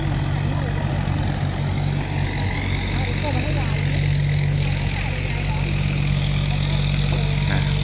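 Constant droning of a nearby boat engine on the Chao Phraya River at Ayutthaya, Thailand, loud and steady throughout, with a faint wash of water and wind.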